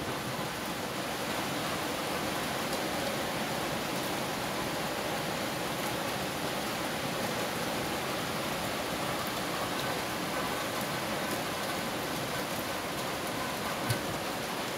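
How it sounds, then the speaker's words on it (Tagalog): Steady, dense rain hiss fills the whole stretch, a continuous even wash of falling rain with no talking and no break. "ngayon ay umuulan dito sa aming lugar"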